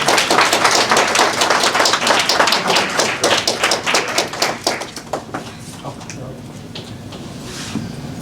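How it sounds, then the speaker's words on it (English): Audience applause at a Moorish recognition certificate ceremony, a dense burst of clapping that fades over several seconds, with a few taps afterward in a reverberant hall. "One more round of applause."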